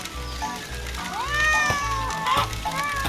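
A cat meowing from inside a machine in the video game Sir Whoopass, several close, insistent meows and wails over a rhythmic pulsing mechanical hum.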